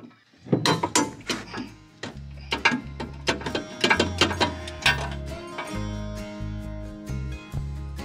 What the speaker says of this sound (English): Loosen 4 bolts